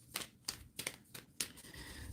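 Soft papery flicks and riffles of a shiny, slick tarot deck being shuffled, five or six quick bursts close by and quiet.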